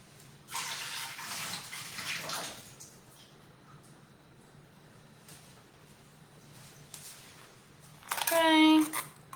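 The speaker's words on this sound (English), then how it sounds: "All right, drain this off." Water being drained off cooked food in a kitchen, a hissing pour of liquid, a pause, then a second short gush near the end, with a voice talking briefly at the start.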